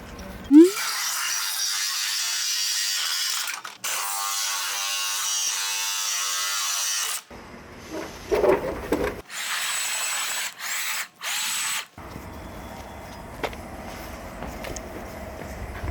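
Power drill boring holes in a dome ceiling panel for a small bathroom, several bursts of loud grinding whine separated by pauses, with shorter scraping and clattering between runs.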